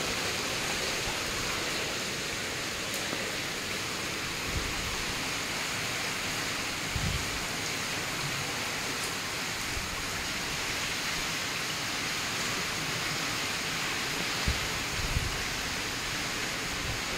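Steady, dense rain pours during a storm in a garden with a few trees, a constant even hiss with occasional soft gusts and thumps, and no talking.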